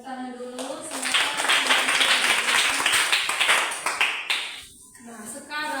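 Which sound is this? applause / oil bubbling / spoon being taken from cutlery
applause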